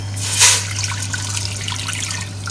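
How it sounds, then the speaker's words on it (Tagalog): Water splashes into a cooking pot in a burst, then settles into a softer trickle and faint drips over a low steady hum. "Maglagay muna tayo ng tubig."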